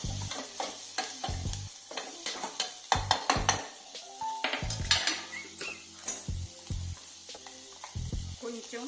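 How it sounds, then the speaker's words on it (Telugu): Thinly sliced onions fry in a pan under a soft sizzle while a spoon stirs and scrapes them in frequent, uneven metallic clanks close by. "సన్నగా తరుక్కున్న ఆనియన్స్. ఇది కొంచెం వేగాలండి, పచ్చి వాసన పోయిందాక వేగాలి"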